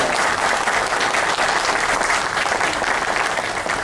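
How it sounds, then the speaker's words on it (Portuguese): An audience at a state meeting of court bailiffs claps for an honored older member named Valmir, a dense, steady roar of many hands held at an even level throughout. "a quem eu peço uma salva de palmas"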